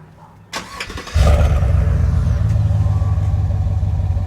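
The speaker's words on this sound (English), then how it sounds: "he did that exhaust work on it. So it sounds real mean." A truck engine with a modified exhaust cranks and fires up close by, then settles into a loud, deep, steady rumble with a throaty low growl and no voices.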